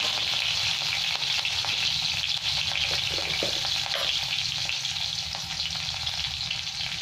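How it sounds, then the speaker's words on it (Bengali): Chopped green chillies fry in oil with cumin seeds while cooking chole, giving a loud, dense, steady sizzle with scattered sharp crackles and spatters, close up and with no talking. "কাঁচা লঙ্কাটা খুব ছিটকাচ্ছে তাতে"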